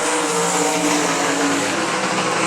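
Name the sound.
sprint race cars racing on I-96 Speedway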